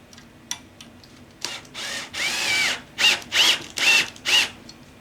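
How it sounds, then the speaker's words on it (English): A power drill whirs in several short bursts, rising in pitch as it drives a screw, with pauses between each pull of the trigger. "I'm going to hit that with the drill."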